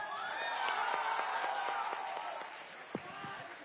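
An audience at a Kolkata literature festival applauds and cheers, a dense wash of clapping and crowd noise with a whistle-like tone, fading slightly toward the end under a speaking voice.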